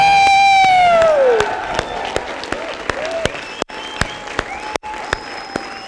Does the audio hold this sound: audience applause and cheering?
yes